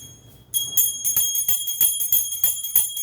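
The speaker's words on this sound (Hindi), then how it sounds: "और घंटी बजाऊंगी।" A small prayer hand bell rings repeatedly at a home shrine in a quick, steady rhythm, bright and close, after a brief quiet start.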